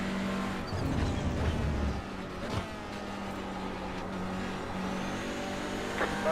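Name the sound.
race cars driving in sim racing video game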